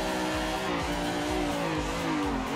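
Tires squeal continuously while a car drifts in a racing simulator game, the pitch sliding and wavering over a steady loud engine drone, with no talk over it.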